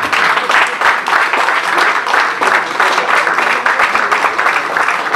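Applause from a congregation at a religious wedding ceremony as the family rises, dense and steady clapping from many people filling the room throughout, with a faint voice under it.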